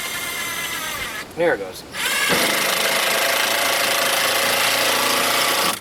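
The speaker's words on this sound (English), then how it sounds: "plywood is awkward to screw through sometimes" Power drill driving a screw through plywood while building a water shed door, a loud steady whine under brief talk, then running continuously alone.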